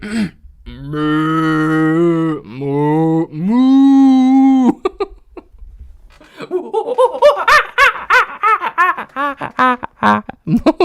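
Loud, drawn-out cow moos come one after another, each with a wavering pitch, followed by bursts of giggling and laughter.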